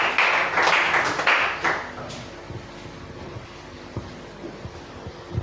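Congregation at a Pointe-Noire church service cheering and clapping, a dense burst of applause loud in the first two seconds, then fading into a quieter rumbling hall with scattered sounds.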